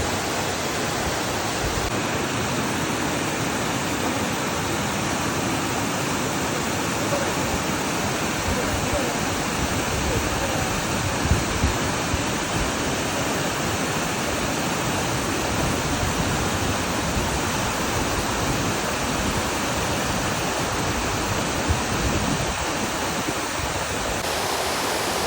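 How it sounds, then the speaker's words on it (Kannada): Hosadevatha waterfall near a temple outside Ankola produces a continuous broad roar of falling water, steady and full throughout, heard from nearby. "ಟೆಂಪಲ್ ಪಕ್ಕ ಇರುವ ನನ್ನ ಕನಸಲ್ಲಿ ಬಂದಿರುವಂಥ ವಾಟರ್ ಫಾಲ್ಸ್, ಹೊಸ ದೇವತಾ ವಾಟರ್ ಫಾಲ್ಸ್ ಅಂತ"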